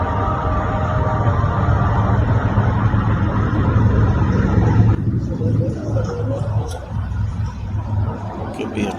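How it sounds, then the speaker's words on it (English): Background truck or road-vehicle noise forms a constant engine rumble and broad wash of sound that drops off and thins out partway through, continuing more faintly afterward. "Could be a truck noise in the background."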